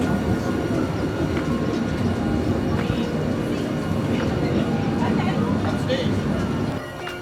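A Tokyo commuter train rumbles along its rails with a steady low roar and faint rhythmic clatter, while a person talks over the running noise.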